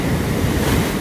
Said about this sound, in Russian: Ох ты ж, какие волны! Мне кажется, что они становятся все больше и больше.